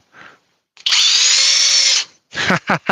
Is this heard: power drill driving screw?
yes